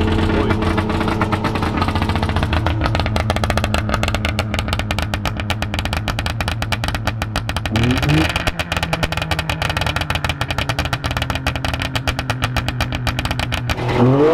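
A Saab 96 T Sport engine runs loud and close, idling steadily before revving up sharply around the middle and settling back toward a smooth idle, with a brief second rise at the end.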